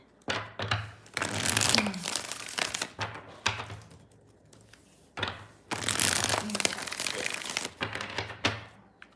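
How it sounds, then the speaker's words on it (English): Tarot cards are shuffled in two bursts of riffling and crinkling, with quiet pauses between the rounds, close to the listener. "Let's get 4 shuffles here."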